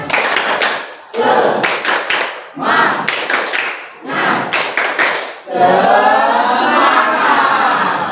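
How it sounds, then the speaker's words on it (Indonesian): A classroom of students performs a rhythmic spirit clap in bursts of patterned hand claps separated by short pauses, ending in a sustained loud clapping and cheering swell; no clear talk over it. "Ayo, masih ingat tepuk semangat? Masih. Oke, tepuk semangat."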